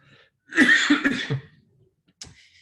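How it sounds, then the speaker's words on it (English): A short, rough cough rasps out up close, followed by a brief pause and a small breathy sound. "I didn't want to cough at you"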